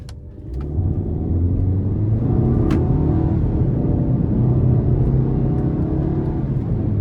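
A 2022 Volkswagen Passat SE with a 174 hp turbocharged four-cylinder engine pulling under acceleration, heard from inside the car as a loud, steady engine drone and road rumble, with a brief click near the start.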